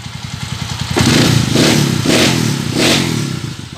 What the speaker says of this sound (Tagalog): Malahalimaw yung tunog ng tambutso mo